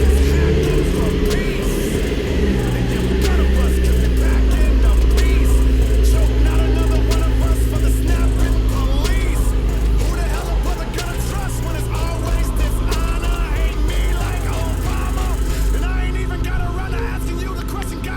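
A Nissan 350Z pulls away, its engine a steady loud drone that holds for the whole stretch, with wind and road noise mixed in and no clear talk.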